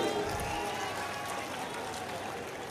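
Rally crowd gathered for Rahul Gandhi breaks into applause, a dense wash of clapping and cheering that fades slightly over a few seconds, with a voice audible underneath.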